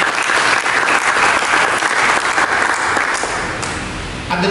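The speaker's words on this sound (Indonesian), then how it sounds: "Mari kita berikan tepuk tangan." Loud, dense applause from a church congregation fills the whole stretch, steady and close, tapering slightly near the end.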